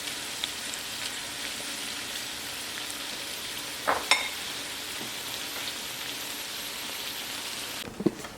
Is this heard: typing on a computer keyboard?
no